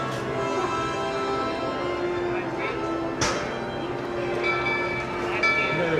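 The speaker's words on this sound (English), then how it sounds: "You could hear the train whistle from the Walt Disney World Railroad. It's coming into the station here," Walt Disney World Railroad steam train at Magic Kingdom coming into the station overhead, a steady rumbling with harmonic tones, one sharp metallic clank partway through and a bell-like ring near the end, heard under a crowd.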